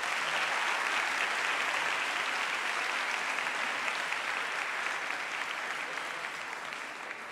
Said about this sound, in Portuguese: Acolhemos com uma salva de palmas.